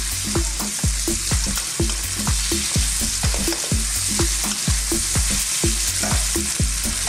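Beef and bean sprouts stir-frying in a pan for a Chinese dish, a steady loud sizzle broken by a quick rhythm of sharp spatula scrapes and knocks against the metal, close by with no talking.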